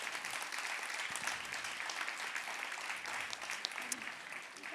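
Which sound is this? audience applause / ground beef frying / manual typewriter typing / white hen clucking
audience applause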